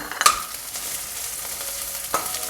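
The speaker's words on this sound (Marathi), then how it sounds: "तर आपण आता तेल टाकून घेऊयात. लसूण आलं चेचून घेतलेलं आहे ठेचून, ते पण टाकलं." Crushed garlic and ginger hit hot oil for a chana usal, giving a steady soft sizzle with a couple of sharp spoon clinks against the pan.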